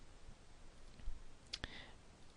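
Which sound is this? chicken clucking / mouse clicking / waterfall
mouse clicking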